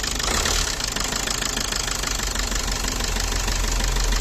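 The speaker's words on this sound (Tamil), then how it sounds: "என்ஜின் சவுண்டு எப்படி இருக்குன்னு மட்டும் பாருங்கள். டீசல் என்ஜினே ஒரு தனி போதை தாங்க." A Maruti Suzuki Swift Dzire ZDI diesel engine idling with a steady, rattly clatter, loud and close, running evenly without revving throughout.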